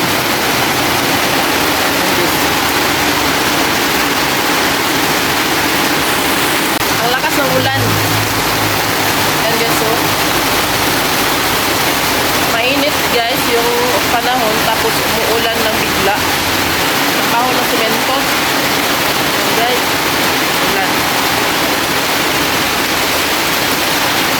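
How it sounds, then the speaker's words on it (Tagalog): Steady heavy rain pouring down in a dense, unbroken hiss, with a few scattered knocks and thumps in the middle. "Lakas ng ulan. Mainit guys tapos umulan ng bigla."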